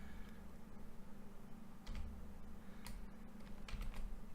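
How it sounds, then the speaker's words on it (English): Keys on a computer keyboard tap out a password in sparse, faint clicks spread over a quiet, steady background hum, with no voices. "So this is what we're typing when we're entering the password"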